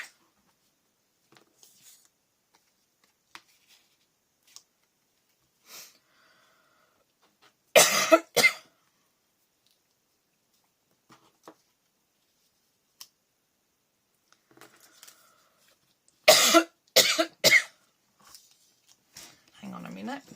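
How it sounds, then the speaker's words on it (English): A person coughs in a few short bursts, two clusters of sharp, close coughs separated by quiet pauses, with faint scrapbooking handling sounds and small taps in between. "while I was off having a little bit of a cough"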